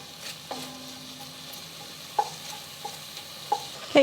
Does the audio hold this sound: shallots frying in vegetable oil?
yes